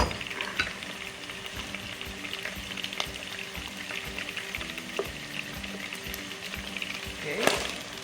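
Beans fry in a pan with a busy, crackling sizzle, stirred with scraping strokes and occasional utensil knocks against the pan, close and continuous, a louder clatter near the end, no talking.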